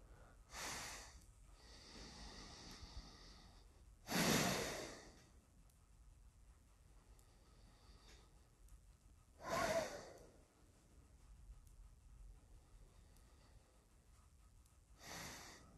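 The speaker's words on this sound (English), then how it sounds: "Some nice cleansing breaths." Deep cleansing breaths drawn and released through the nose come as a few slow, soft, close inhales and exhales with quiet pauses between them, no talking.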